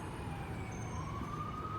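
A distant emergency siren wails steadily over a dense, constant bed of traffic and city noise, its tone slowly rising as it moves, faint and partly buried under the background rumble.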